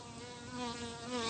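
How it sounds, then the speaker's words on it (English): Bees buzz in a steady, continuous drone for a brief moment, fairly soft and close, with no voices over it. "The bees are very alive right now in this space."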